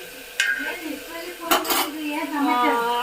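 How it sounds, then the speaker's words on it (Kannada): Pieces of bitter gourd tipped into a cooking pan for gojju, with a sharp metallic clink followed by a brief clattering rush of utensil against pan, then softer scraping and faint cooking noise. "ಈಗ ಆಗ್ಲಿಕಾಯಿ ಹಾಕೊಂತ ಇದ್ದೀನಿ"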